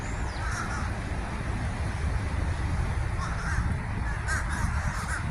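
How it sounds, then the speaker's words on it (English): A large flock of crows calls outdoors, harsh caws rising again and again in a dense, continuous chorus over steady background noise. "Ton load of birds."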